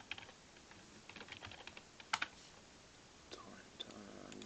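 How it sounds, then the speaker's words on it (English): Typing on a computer keyboard: scattered light key clicks in quick irregular bursts, quiet and close, with a sharper double tap near the middle and faint background noise. "So press E on the keyboard."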